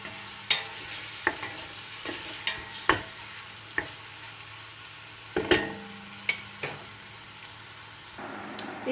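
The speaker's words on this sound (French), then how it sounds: "je fais revenir bien ma viande avec mes épices pour que ma viande s'imprègne bien" Veal pieces browning with spices in a pan for kabsa, a soft steady sizzle under repeated sharp scrapes and clinks of a utensil stirring against the pan at irregular intervals.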